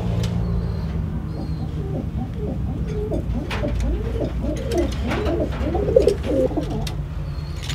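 Three pairs of racing pigeons coo repeatedly in soft, rolling calls close by, over a steady low background hum, with a few faint clicks and rustles between the coos.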